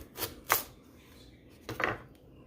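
A knife cuts through Halloween food on a board in a home kitchen, with two quick close chops, a pause, then another pair of soft cuts, fairly quiet with no speech.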